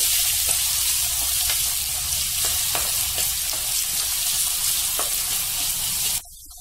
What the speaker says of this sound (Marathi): बारीक चिरलेला कांदा कांदा दोन ते तीन मिनिटं चांगला परतून घ्यायचा आहे तेलामध्ये